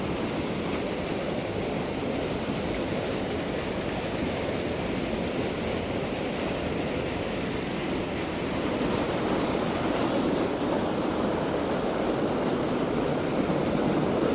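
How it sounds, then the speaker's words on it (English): A constant, broadband roar of water rushing over a spillway into a creek, steady and fairly loud throughout, with no voices. "Moving a lot of water."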